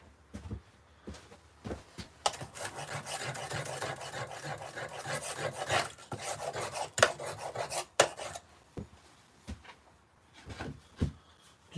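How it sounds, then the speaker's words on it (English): A chisel works the outside of a stone carving, producing rough, rasping scrapes in long strokes with sharp knocks and clicks scattered between them, close and fairly quiet. "Just going to move a bigger chisel round quickly on the outside."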